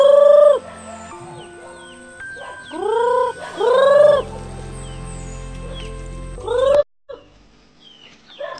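Chickens on a rural farmyard at morning feeding, with a rooster crowing several times and hens clucking, fairly close and loud, with short quiet gaps between calls.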